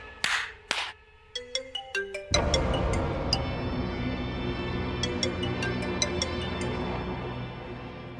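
A telephone ringtone plays in a TV drama scene, a bright melodic sequence of short tones that rises, then gives way to a fuller, steady musical phrase with repeating chimes.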